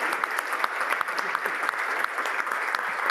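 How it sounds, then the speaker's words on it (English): Steady, dense applause from a conference audience welcoming a speaker, continuous clapping from many hands at moderate volume throughout. "Round of applause for Dr. Crenshaw, welcome her, thank you."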